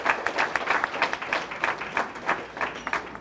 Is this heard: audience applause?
yes